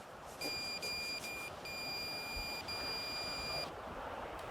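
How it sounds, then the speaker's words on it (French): A fishing rod bite alarm beeps in short repeated bursts, a steady high tone switching on and off over constant outdoor background noise. "Ça bip là, tu vas voir?"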